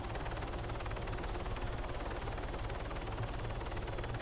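A helicopter in Modern Warfare 3 gameplay gives off a quiet, continuous rotor thrum with an even pulsing beat, heard alone without any talking.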